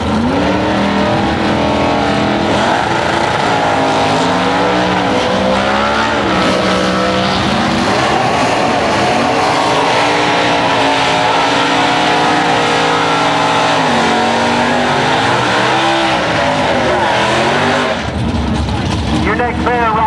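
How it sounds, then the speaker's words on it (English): Ford Falcon and Ford Mustang drag cars roar together at full throttle down a strip, loud engines climbing through gears with shifts, under a steady announcer's voice and crowd noise. "Ford versus Ford, Falcon and Mustang."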